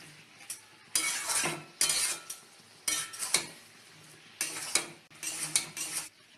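Spices sauté in a little oil for a potato and pointed gourd curry, as a spatula scrapes and stirs against the pan in repeated bursts of clinking and scraping over a light sizzle, close and uneven in rhythm.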